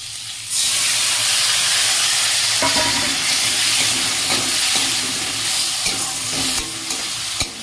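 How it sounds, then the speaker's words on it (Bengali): Boiled eggs fry with masala in a pan for egg curry, producing a loud, steady hiss and sizzle that starts abruptly, with a spatula scraping and clanking repeatedly against the pan, close up and without talk. "এই যে ডিমটা কষবো, মশলাটা দিয়ে এবার কষবো"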